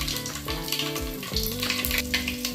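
Garlic hits hot oil already popping with mustard seeds, a dense close sizzle and crackle with a brief stir, loud and steady throughout.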